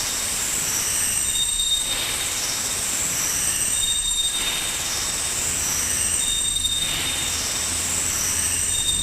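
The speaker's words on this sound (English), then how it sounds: "train pulling into the station." A train pulls into a station, its wheels squealing loudly and steadily throughout, with a faint rumble beneath and no voices.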